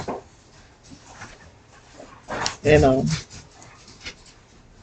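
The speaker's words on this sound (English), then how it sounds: "the dogs are getting real happy" Dogs whine and whimper in short high squeaks mixed with panting, near and excited, alongside a person talking.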